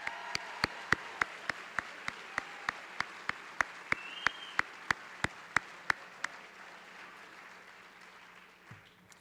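A crowd at a school district opening day applauds its staff. The clapping is sparse and fairly distant, with sharp individual claps in a steady rhythm that thin out and fade away.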